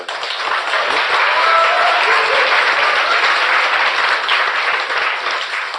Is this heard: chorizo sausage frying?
no